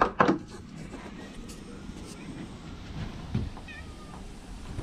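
A cat lets out a loud meow at the start, then soft scratching and scuffing at a door follow, with another faint thump partway through.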